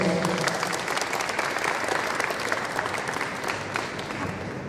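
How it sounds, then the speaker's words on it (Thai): A hall full of people applauds to welcome managing director Sali Sawasdee at a youth boxing support event, a loud, continuous wash of clapping lasting throughout, with a voice faintly beneath it. "ขอเสียงปรบมือการต้อนรับ ท่านสาลีสวัสดีครับผม"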